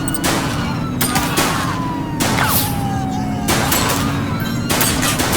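Gunfire from a suspect during a police chase in GTA V: several sharp bursts of shots ring out over steady game noise and a wailing siren tone, loud and close, with no talk over them.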